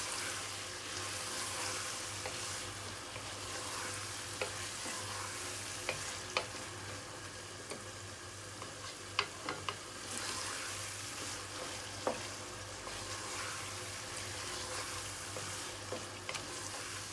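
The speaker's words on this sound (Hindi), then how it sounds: "अब इसे दही के साथ भून लेती हूँ।" Keema and potato masala fries with yogurt and tomato in a pan, giving a steady soft sizzle with intermittent scraping clicks of a spoon stirring, fairly quiet and close.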